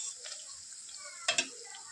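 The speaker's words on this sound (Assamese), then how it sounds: "মই সেইকাৰণে কম জুইতে ভাজি আছোঁ" Gaja, a sweet dough snack, frying in oil over a low flame: a soft, steady sizzle with two sharp clicks of a utensil partway through, fairly quiet and close.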